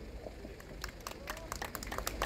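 Audience at a Korean street rally applauds, a scattered patter of claps building over a couple of seconds, moderately distant, with a low rumble of background crowd noise.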